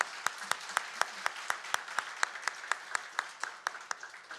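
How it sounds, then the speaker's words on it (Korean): A church congregation at a Sunday service claps in a steady, even rhythm, sharp distinct claps repeating about every quarter second at moderate volume, with no talking over it. "우리 축복의 박수 하도록 하겠습니다."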